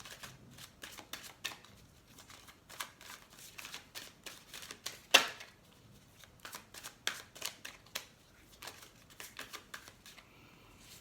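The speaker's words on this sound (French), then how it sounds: "On va tirer quelques cartes." Tarot cards are shuffled and drawn close by in quiet, quick flurries of papery flicks and riffles, with one sharp snap midway and brief pauses between bursts.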